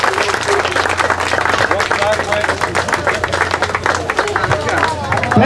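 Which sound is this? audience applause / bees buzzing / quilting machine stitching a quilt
audience applause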